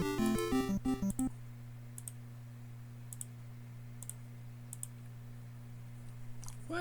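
A quick burst of rapid computer keyboard clicks at the start, then a few faint isolated clicks over a steady low hum, quiet and close, from a laptop keyboard during emulator gameplay.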